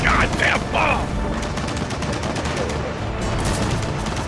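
Gunfire in the Gears of War 4 video game during a co-op campaign, loud bursts of rapid shots mixed with booms over an ongoing battle din.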